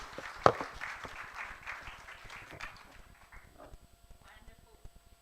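Audience at an event celebrating 100 years of technical and vocational education applauds, a brief burst of clapping that starts strong and fades to scattered claps over several seconds, with faint talk.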